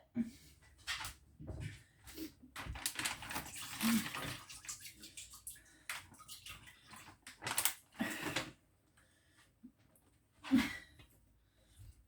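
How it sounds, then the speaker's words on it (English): Liquid from thawed frozen prawns drains through a strainer for wonton noodle soup, making soft trickling and splashing with occasional light clinks of kitchenware. The sound is quiet and uneven and comes from close by. "I'm just going to strain the liquid"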